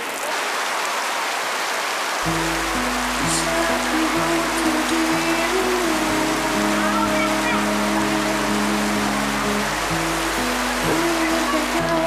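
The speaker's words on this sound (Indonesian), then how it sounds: "Hujan, friend. Hujan terus." Continuous rain pours during an outdoor film shoot, a dense, steady hiss running throughout beneath a loud repeating musical pattern.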